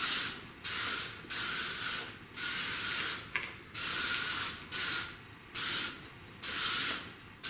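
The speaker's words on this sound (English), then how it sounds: "Get her a good WD wash down." WD-40 lubricant sprayed in a series of bursts, about six hissing sprays of roughly a second each separated by short gaps, steady and fairly close.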